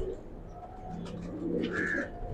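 Soft, low cooing from Imamdeen pigeons, steady and close, with rustling and faint background noise throughout.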